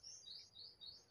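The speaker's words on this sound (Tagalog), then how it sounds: "pinakinggan ko yung huni ng mga ibon." Birds chirp in quick repeated high tweets, faint and distant over a quiet outdoor background, with a short burst of calls near the end.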